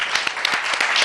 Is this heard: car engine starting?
no